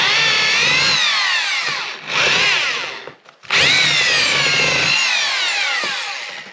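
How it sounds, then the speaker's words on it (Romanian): A power drill bores holes into wooden cow-stable posts to fit 6 mm rebar, running loud and close in two long whining bursts with a brief stop between, no voices. "bor mașina să dăm niște găuri pe aici ca să încapă fierul"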